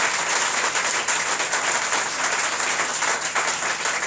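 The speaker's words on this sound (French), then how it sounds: "On applaudit Jésus plus fort, plus fort." Church congregation clapping loudly and continuously in worship, a dense, close wash of many hands with no break.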